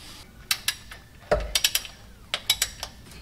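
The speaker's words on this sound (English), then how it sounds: "I'm going to go ahead and torque down that bolt again" A ratchet tightens a bolt during a Nissan 370Z clutch installation, giving quiet bursts of sharp metallic clicks in uneven clusters with short pauses between strokes, close by.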